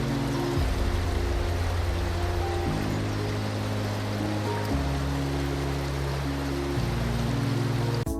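The Charyn River runs through its canyon as a steady, broad rush of flowing water heard nearby, with faint tonal sounds layered over it and no talk.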